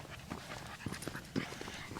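A dog pants and shuffles close by, giving quick breathy bursts and a few louder huffs in an uneven rhythm, with faint movement noise and no clear talk.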